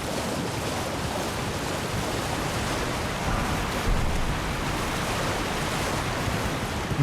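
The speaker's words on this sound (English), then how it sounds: "Something behind the waterfall, maybe?" Waterfall in Elden Ring, a steady dense rushing roar of falling water that holds evenly throughout, broad and continuous with no voices over it.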